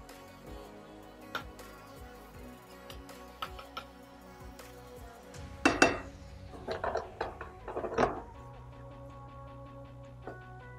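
A spoon stirs Japanese curry in a pot just after the curry spices go in, making intermittent metallic scrapes and clinks against the pot. A cluster of louder clatters sits midway, with quieter ticks around it.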